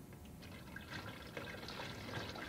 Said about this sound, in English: Put a piece upside down and pour glaze.